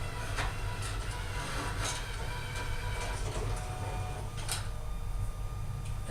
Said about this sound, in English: It'll sit there and spin the rollers.